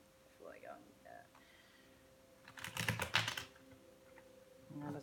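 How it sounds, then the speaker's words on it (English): A deck of tarot cards shuffled in a quick rapid flurry of crisp riffling clicks lasting about a second, close up, with a person talking softly before and after. "let me give you guys one good shuffle at the end"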